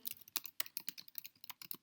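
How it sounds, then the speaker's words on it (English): Computer keyboard keys tapped in a quick, uneven run of close, crisp clicks, with no voices in the pauses. "I'm just typing up an example"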